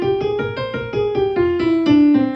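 A jazz mixolydian flat 6 chord voicing with a natural 9 is played as a run of repeated sustained chords, clear and close, each struck in a steady pulse while the top tone shifts slightly, heard alone.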